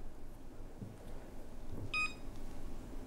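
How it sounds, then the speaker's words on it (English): Chessnut Pro electronic chessboard gives a single short, clear electronic beep during a capture, standing out over a quiet room background. "the system made a beep sound when it captured"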